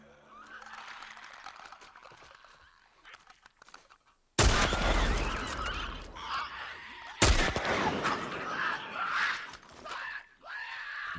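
Scoped rifle fired in The Last of Us while hunting clickers, two loud sharp shots a few seconds apart with ringing decay after quieter rustling and faint voices.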